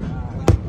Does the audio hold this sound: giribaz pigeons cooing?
no